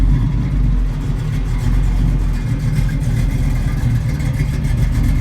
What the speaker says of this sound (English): I think it's time we get this Mustang fired right up